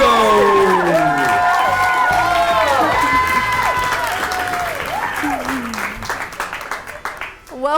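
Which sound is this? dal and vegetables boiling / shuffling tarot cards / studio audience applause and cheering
studio audience applause and cheering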